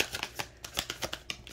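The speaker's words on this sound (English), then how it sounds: "Sorry, this is hard to shuffle." Quiet, rapid riffling and flicking of playing cards being shuffled, a quick irregular patter of soft snaps nearby.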